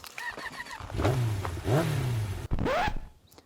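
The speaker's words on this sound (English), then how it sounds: "the next task of the day is starting this quad." Quad ATV on a farm cranks and its engine catches, revving up and dropping back in two rising-and-falling surges, then a third short rev before it cuts off, close and fairly loud.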